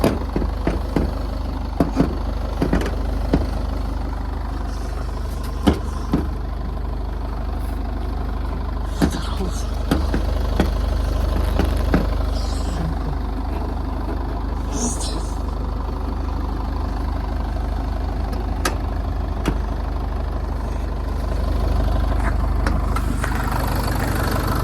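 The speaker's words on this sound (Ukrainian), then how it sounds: "двигунчик у нас працює чітко, рівненько, ніяких проблем по двигуну немає" A Mitsubishi Outlander XL 2.2 diesel with automatic gearbox and 4WD idling, a steady low engine rumble that runs throughout, with someone talking briefly and scattered clicks and knocks nearby.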